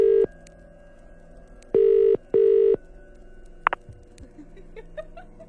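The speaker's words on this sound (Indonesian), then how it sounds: "Gak lama bunyilah HP Mas Ahmad." A mobile phone rings with three loud, flat electronic beeps in an uneven rhythm, followed by faint clicks and small knocks in a quiet background.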